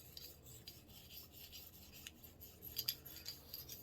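A brush scrubs parts of a Remington 1911 R1 pistol during cleaning, quiet rasping strokes repeating close by, growing slightly louder near the end.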